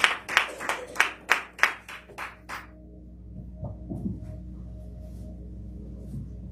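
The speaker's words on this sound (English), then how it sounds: "Please give her a hand clap" Hands clap in a church as a pastor enters, around ten sharp, evenly spaced claps that stop abruptly, leaving a faint room murmur with low sounds.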